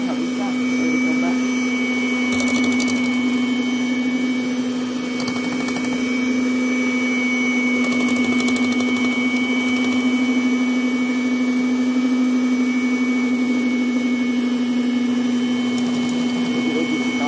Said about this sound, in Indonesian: jadi saya pakai mixer aja biar rata ngaduknya